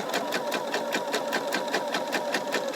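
A sewing machine stitching a quarter-inch seam along a marked line, running at a steady fast rhythm of even mechanical clatter, close and continuous with no pauses.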